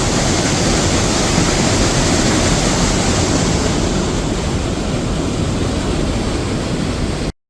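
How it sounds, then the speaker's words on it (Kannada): Water from a leaking abandoned dam rushes in a steady, loud, broadband roar that holds unchanged for about seven seconds, with no voices over it. "ಫ್ಲೋಲ್ಲಿ ನೀರು ಹೋಗ್ತದೆ"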